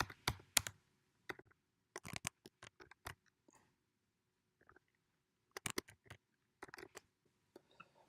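Card details are typed on a computer keyboard in quick bursts of close, crisp key clicks separated by short pauses, alone in a quiet room.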